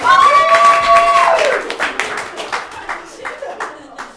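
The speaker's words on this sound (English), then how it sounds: "Everybody give me a round of applause!" A crowd claps and applauds, the clapping thinning out toward the end, with a brief high whistle-like tone at the start.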